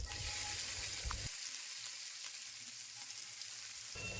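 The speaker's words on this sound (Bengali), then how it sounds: "তারপর রসুন কুচি আর পেঁয়াজ কুচি খুব ভালো করে তেলের সাথে নাড়াচাড়া করে ভেজে নেব।" Chopped garlic and onion fry in leftover oil from fried taro in a pan, a steady close hiss of sizzling that dips quieter mid-clip before swelling back, with no voices.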